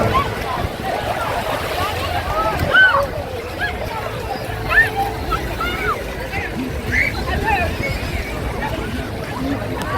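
Crowded beach on a hot summer day, with a dense, steady wash of many voices and children playing over a continuous rumble of surf and wind noise, loud and close throughout.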